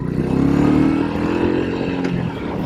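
A Royal Enfield Meteor 350 fitted with a belt drive, ridden through a turn; its single engine hums steadily and close, swelling a little and then settling, with no voices.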